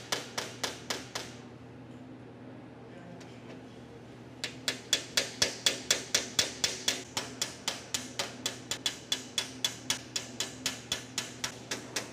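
A car hood flange is hammered out during a custom build: a quick burst of sharp metallic taps, a short pause, then a long, steady run of close, evenly spaced blows.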